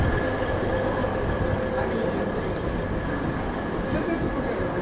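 An old, repainted and renovated locomotive in Brașov runs along the railway, giving a steady, loud rumble with a faint high whine throughout and no audible talk.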